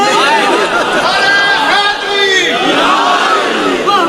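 An audience at a religious majlis chanting slogans in unison, a loud, dense crowd roar of rising and falling voices that carries on throughout and stays close.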